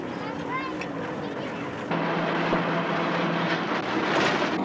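An old opalette taxi jalopy rides through the streets of Jakarta in 1971, its engine droning steadily throughout with a louder, rougher hum setting in partway along, while a voice talks over it.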